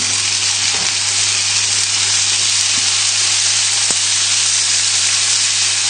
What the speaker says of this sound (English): if you can hear that sizzle, that's a really good indication that the pan's hot enough